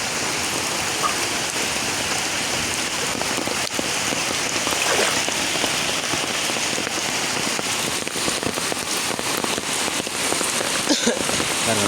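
Steady, heavy rain pattering on a surface, a dense continuous hiss of drops with occasional louder splashes, no voices.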